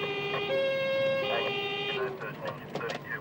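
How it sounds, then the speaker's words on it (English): Wailing siren of a highway patrol police car, close and loud, its rising and falling tone sounding for about two seconds before cutting off into road and engine noise. "Sirens."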